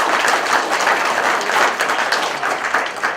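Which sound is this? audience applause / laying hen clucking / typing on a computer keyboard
audience applause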